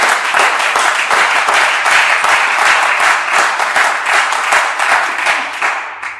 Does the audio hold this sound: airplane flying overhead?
no